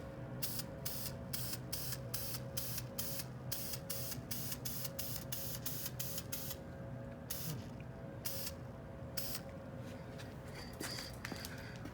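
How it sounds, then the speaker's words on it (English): Aerosol can of high gloss paint spraying light coats onto Corvette C8 engine parts from about a foot away, heard as a series of short hissing bursts in quick rhythm, then a few spaced sprays over a steady background hum. "Here we go, high gloss. I would say at least about a foot away. Very light coats."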